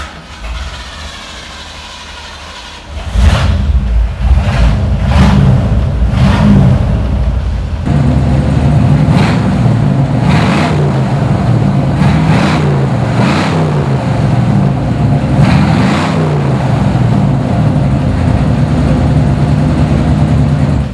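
A 1973 Ford Mustang Convertible Ram Air engine cranks and fires up, then settles into a loud rumbling idle punctuated by several sharp revving bursts, close and powerful.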